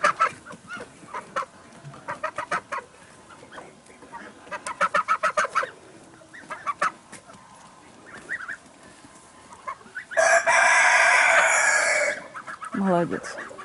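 A rooster clucks in short repeated bursts, then lets out one loud, long crow near the end, in a quiet outdoor morning setting.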